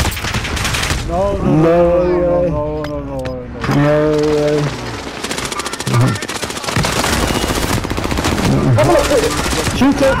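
Rapid bursts of gunfire crackle in a video game match, interrupted by pauses in which voices talk over the action.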